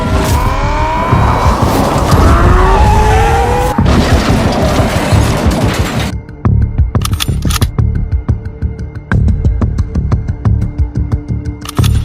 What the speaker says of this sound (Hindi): बाकी वेट, गाड़ी का साउंड आ रहा है